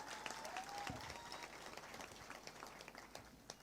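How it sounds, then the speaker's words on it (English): Audience applause at a university graduation ceremony, a sustained wash of many hands clapping in a large hall, fairly distant and even, with a faint voice now and then underneath. "Please give him another round of applause."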